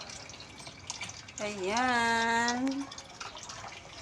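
A new Panasonic washing machine fills with water, a steady broadband rush running throughout while someone speaks briefly in the middle.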